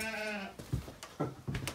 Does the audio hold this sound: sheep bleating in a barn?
yes